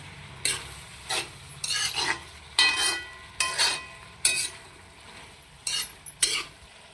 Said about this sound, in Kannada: ಶುಂಠಿ ಬೆಳ್ಳುಳ್ಳಿ ಒಂದು ಒಂದೆರಡು ನಿಮಿಷ ಅಷ್ಟೇ ಫ್ರೈ ಮಾಡಿರಿ ಅದನ್ನು